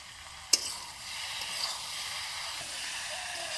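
A bay leaf drops into hot frying oil with spices for a Bengali village shrimp and potato dish; one sharp crackle at the leaf's entry gives way to a soft, continuous sizzle.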